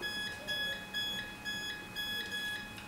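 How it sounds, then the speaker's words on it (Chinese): Close, clear electronic beeping from a Sentry safe keypad after a code is entered, a steady run of short paired tones repeating evenly against a quiet room background. "哔哔兩聲之後就會熄燈"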